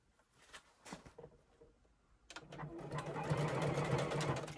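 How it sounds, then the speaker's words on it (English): A JUKI sewing machine stitching a straight seam with a quarter-inch foot on a tote bag, starting after a few quiet handling taps and settling into a steady, close, rapid mechanical whir. "we will sew straight through that seam using my 1/4-inch foot"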